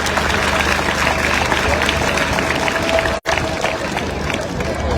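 Crowd applause rolls through an outdoor rally during a presidential visit to Moyamba, a dense sustained wash of clapping and cheering broken by a brief dropout before resuming, with a voice speaking over it.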